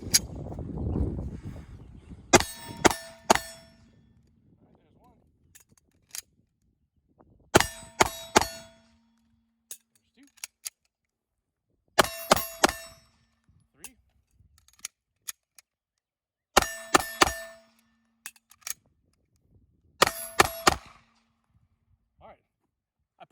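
SIG P320 pistol shots ringing off steel targets, fired in five short bursts of two to four sharp metallic clangs each, with quiet gaps between strings and faint talk early on.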